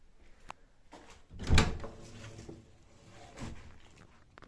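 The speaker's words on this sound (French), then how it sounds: "Là, cette porte, est-ce qu'elle est encore ouverte?" An old door in an abandoned manor is tried and pushed open, giving a few scattered knocks and a louder creaking thud near the middle, close and alone in a quiet room.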